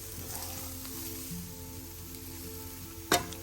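Mung dal and fried pulao rice sizzle steadily in a pan, a soft continuous frying hiss with a brief sharp clink of a utensil near the end; no one speaks.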